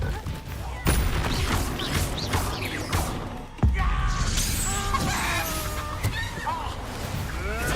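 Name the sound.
Expulso exploding spell cast in video game Hogwarts Legacy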